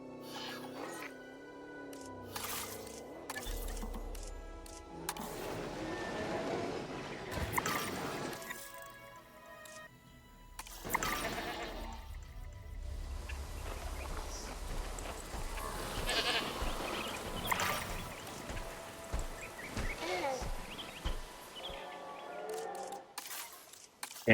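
Goats bleat at a velociraptor feeder in the Jurassic World Evolution 3 video game, scattered calls mixed with game music and ambient effects while a voice talks over much of the scene.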